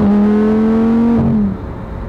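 A Lamborghini engine revs loudly and close up, holding a strong, buzzy tone that climbs slightly before cutting off abruptly into a softer idle rumble.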